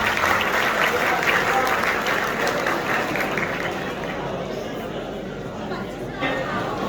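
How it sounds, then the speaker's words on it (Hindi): Audience applause at an award show in Lyari, a dense, steady wash of clapping that stays loud throughout with crowd chatter mixed in, easing slightly toward the end. "तालियां बजा दो गाइस।"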